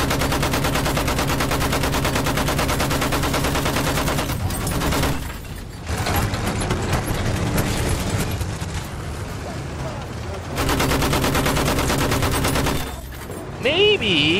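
Sustained automatic weapon fire from a machine gun in the video game Battlefield 1, loud and continuous with two brief pauses, while a player talks over it.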